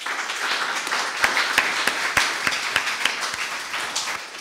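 A church congregation gives vigorous applause to the Lord, a dense, continuous wash of many hands clapping with sharp individual claps standing out throughout.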